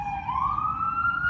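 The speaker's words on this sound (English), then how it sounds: "you still live with the sirens" An emergency vehicle siren passes by, a loud steady wail that rises slowly in pitch over the rumble of traffic.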